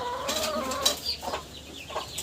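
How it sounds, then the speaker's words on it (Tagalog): Soft clucking from a brooding hen in a backyard coop beside a brood of chicks, a few short calls over about two seconds, moderately close with no talk. "Kasi merong chicken dito sa kabila na naglimlim din."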